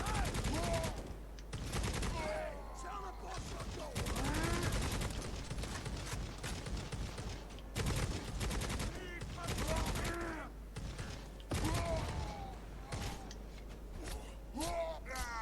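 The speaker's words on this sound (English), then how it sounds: "I'm just going to shoot the fucking lock off" Gunshots blasting a chest lock in Necromunda: Hired Gun, repeated loud bursts of game gunfire with mechanical clanks, mixed with a voice talking throughout.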